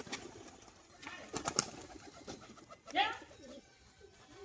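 Paired domestic pigeons, a male and a female, coo in soft low bursts close by, with a louder coo near the end over faint background rustle.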